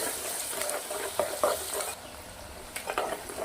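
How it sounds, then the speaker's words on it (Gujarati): Onions and fresh red chillies sizzle steadily in hot oil in a pan, frying noise close and continuous, with a few soft scraping stirs and a slight drop in intensity partway through. "સરસ મજાના ડુંગળી મરચાંને તેલના અંદર સાતળી લેવાના છે."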